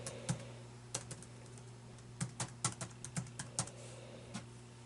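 Irregular bursts of keystrokes on an old laptop keyboard, close and crisp, with short pauses between clusters over a steady low hum.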